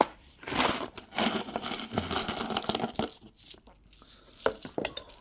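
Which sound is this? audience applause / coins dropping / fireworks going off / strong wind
coins dropping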